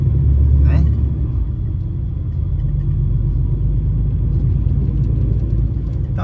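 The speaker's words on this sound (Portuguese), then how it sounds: "nós estamos acelerando o carro" A car drives along a highway from Recife toward Belém do Pará, its engine a steady, loud low rumble close by, with a brief higher whine early on and talk over it.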